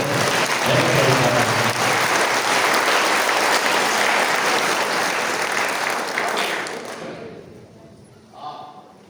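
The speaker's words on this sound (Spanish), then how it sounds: "Vamos a darle un fuerte aplauso aquí al pastor David Delgado." Church congregation applauding a pastor, loud sustained clapping with some cheering that fills most of the stretch, then fades out, leaving a brief quieter moment near the end.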